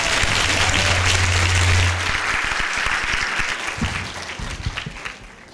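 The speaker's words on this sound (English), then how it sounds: "Give her a big round of applause for having strength." Audience at a book talk on the presidency breaks into loud, sustained applause that thins out gradually toward the end, with a low hum underneath.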